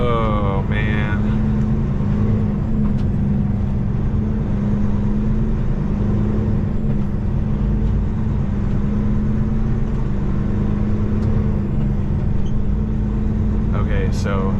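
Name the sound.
semi-truck engine while turning around downtown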